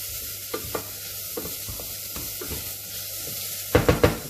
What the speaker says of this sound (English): I fried the thyme and the shallots there for about 2 minutes